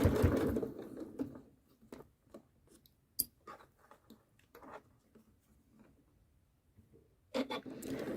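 Janome sewing machine with a circular attachment stitching in short bursts of mechanical whirring, with quiet pauses and light clicks between runs, close and fairly loud at the start and end.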